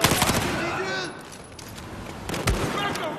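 Rapid automatic gunfire in the Battlefield 4 campaign rattles out in close, loud bursts, briefly easing and then returning, with shouted voices in between.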